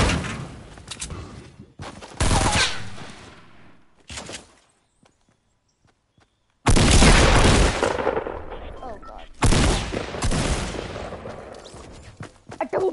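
Gunfire bursts in the Fortnite video game, loud broadband shots in several clusters separated by a quiet gap, with no talk over them.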